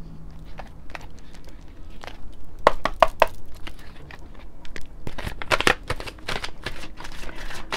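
Tarot cards are shuffled in a series of quick riffling bursts and soft slaps, close and crisp, with quieter handling noise between the shuffles and no talking.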